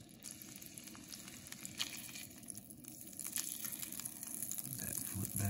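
A trout fillet lightly coated in cornmeal sizzles and fries in a pan, a steady, soft crackle that swells a little louder toward the end.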